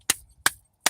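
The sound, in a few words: knocking on a deck of oracle cards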